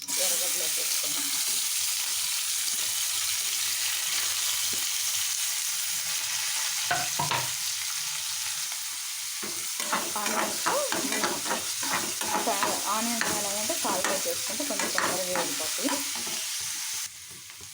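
Onions frying in hot oil with mustard seeds, cumin, curry leaves and dried red chillies for a curry, a steady close sizzle with stirring scrapes, getting busier in the later half as the pan is worked.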